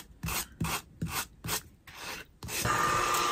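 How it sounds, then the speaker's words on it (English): A small finger sander works the edges of a scrap-wood decor piece, first in quick rhythmic scraping strokes, then in a continuous close buzzing grind. "I'm going to clean up the edges by using my little finger sander."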